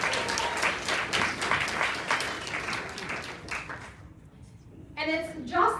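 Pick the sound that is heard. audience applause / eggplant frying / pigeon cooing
audience applause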